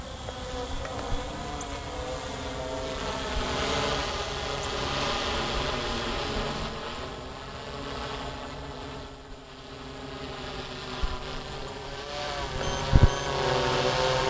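A Typhoon Q500 quadcopter drone flies continuously, its buzzing rotor whine droning steadily at moderate volume with slight swells as it moves, heard alone without talk.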